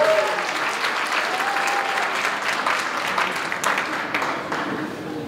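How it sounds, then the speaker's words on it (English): Sustained applause from a crowd at a New York State senator's inauguration ceremony, a steady dense patter of many hands clapping for several seconds without a break. "Let's give him a round of applause."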